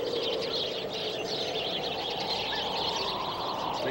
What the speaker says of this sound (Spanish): se alborotan los pájaros y se suelta esta brisa